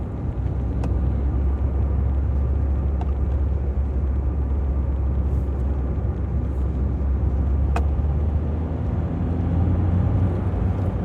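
A Suzuki Swift with a P0108 manifold absolute pressure fault drives in second gear, its engine giving a steady, loud low drone with road rumble and no clear change in pitch, heard from inside the cabin.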